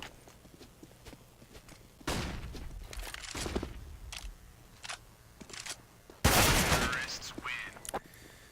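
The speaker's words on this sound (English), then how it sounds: "even though Magus got his hands on an AK, he gets taken out by Flamey with the MP7" Counter-Strike gunfire from an AK and an MP7 during a match, sharp bursts of rapid shots with two loud volleys and scattered single cracks, mixed with faint game sounds and low talk.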